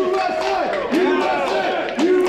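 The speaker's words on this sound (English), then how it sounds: "As the crowd comes alive," A crowd at a crokinole tournament cheers and shouts in rising bursts during a tense double-overtime match, the voices loud and close in an indoor hall.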